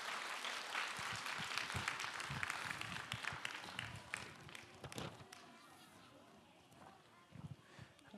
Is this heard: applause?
yes